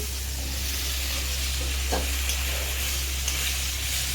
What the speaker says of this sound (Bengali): এবার এই পটলগুলো ভেজে নিচ্ছি